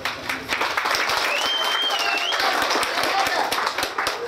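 An audience on the aft deck of the M/S N. Gogol cruise ship applauds a contestant at a talent-style show, steady dense clapping filling the whole stretch, with a voice calling out above it.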